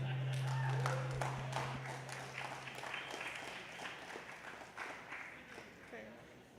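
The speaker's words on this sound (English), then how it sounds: "Could you all please give a huge round of applause to Jessie?" Applause from a meetup audience for a presenter, a broad wash of many hands clapping that is loudest at the start and slowly thins out, with some voices underneath.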